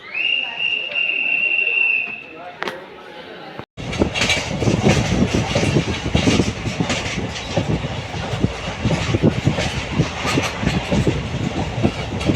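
The Ajanta Express from Manmad to Secunderabad rolls along the rails with a dense, continuous rumble and rhythmic clickety-clack of wheels on track joints, close and loud, after a brief quieter stretch with a whistle-like tone and a sharp cut.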